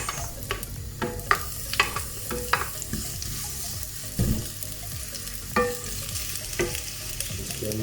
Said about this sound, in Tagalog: mainit na ang kawali. So, lagyan na natin ang onions.